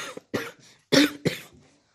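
A person coughs several times in short, separate bursts, close to the microphone and fairly loud, with brief pauses between them and no talking.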